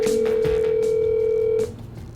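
A telephone call rings out, a steady electronic ringback tone held for over a second and a half before cutting off, with a few soft clicks and knocks around it.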